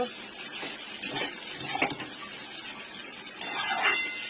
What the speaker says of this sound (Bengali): দেখো আমি পাস্তা বানাচ্ছি